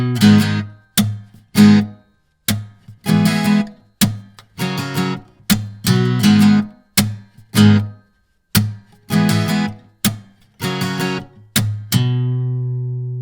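A guitar plays a loop at full speed, opening with a single lead-in note and then repeating a tight rhythm of strummed chords and percussive muted hits, close and clear, ending on a ringing chord.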